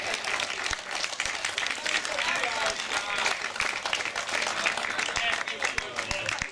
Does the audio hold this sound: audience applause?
yes